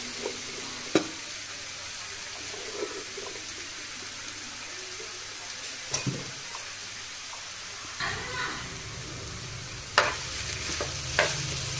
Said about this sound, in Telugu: మనం పొడి పొడి చేసి పెట్టుకున్న అన్నం వేసేస్తాం.